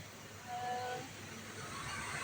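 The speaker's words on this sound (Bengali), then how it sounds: "তো ট্রেন চলে আসলো।" A train on the Assam–Guwahati line pulls in near Jalpaiguri's Mohitnagar, a faint, steady rail rumble with a brief thin horn-like tone early on, heard from a distance with no talking.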